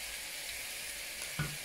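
Chicken thighs fry in a pan over a weak flame, giving a soft, steady sizzle throughout with one brief louder clink near the end.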